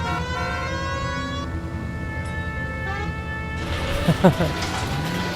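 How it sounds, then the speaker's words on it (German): A police car siren in the video game L.A. Noire wails in rising and falling tones under someone talking, then cuts off as other game noises take over. "Bisschen mit der Sirene rumgespielt."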